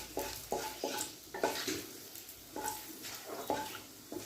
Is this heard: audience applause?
no